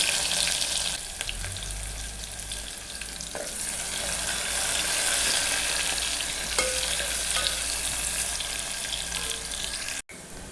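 Chopped onion and green chilies fry in a pan for a Kannada-style green gram curry, giving a steady, close, hissing sizzle that stays loud and even throughout, with occasional faint stirring.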